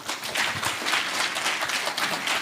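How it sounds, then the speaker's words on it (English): Conference audience clapping in a hall, a moderately loud, uneven patter of many hands that carries on steadily without voices. "Let us give them a round of applause,"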